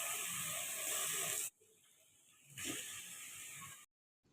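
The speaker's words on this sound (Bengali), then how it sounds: "এই মাটনটা চাপিয়ে দিয়েছে মা, এখনো মশলা দেওয়া হয়নি, শুধু পেঁয়াজ দিয়ে আর নুন হলুদ দিয়ে ভাজতে দিয়েছে" Mutton sizzling in a pan with onion, salt and turmeric, a loud steady frying hiss that cuts out partway, returns, then stops abruptly.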